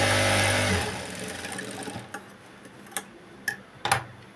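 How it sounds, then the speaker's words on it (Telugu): Sewing machine stitching a Punjabi dress top, whirring loudly for about a second before slowing and stopping, followed by a few distinct ticks and clicks as the stitching is reversed. "ఇలా రివర్స్ తిప్పుకొని స్టిచ్ అనేది వేసుకోవాలి."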